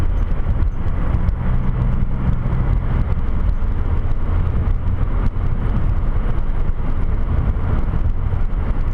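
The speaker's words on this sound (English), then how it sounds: "accelerate to get into the passing lane" A car speeds up on an 80 km/h two-lane road as it moves into the passing lane. Loud, steady road and engine roar fills the cabin with constant wind rush, and nobody speaks.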